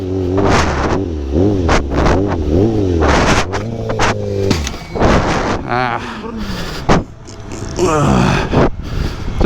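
Stunt motorcycle engine revving in repeated sharp bursts, rising and falling in pitch, with wind noise and a voice speaking briefly between revs.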